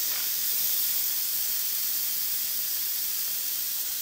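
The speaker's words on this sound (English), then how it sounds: "So just gonna hit cancel and release the steam." Steam hisses in a continuous, fairly quiet stream from the vent of an electric pressure cooker being released after cooking spinach dip, alone without talk.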